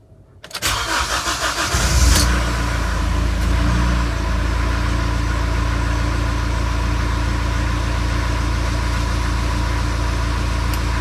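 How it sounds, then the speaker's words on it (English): A diesel engine of a 2008 Honda CR-V 2.2 i-CTDi cranks briefly after a fuel filter change, catches, and settles into a steady, close idle that runs on evenly with no voices. "It takes a while first time when you start after changing fuel filter"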